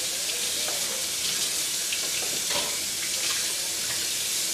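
A tap runs steadily while a knife and cutting board are washed with soap at a kitchen sink, a close, even rush of water with faint scrubbing and knocks.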